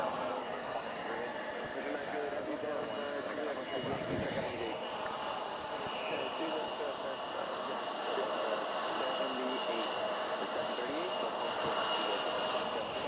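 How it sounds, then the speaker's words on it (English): A Delta Boeing 767 arriving from London Heathrow at JFK, heard as a continuous broad engine rumble and whine under a constant background wash, with nobody speaking. "Got a Delta Flight 63 coming in from London Heathrow as well, 767."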